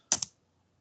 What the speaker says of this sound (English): Quickly you have to type the program.